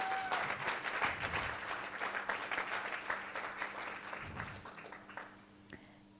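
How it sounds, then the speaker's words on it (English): A conference room full of people applauds a speaker's introduction, steady clapping that gradually thins and fades out over several seconds. "Round of applause."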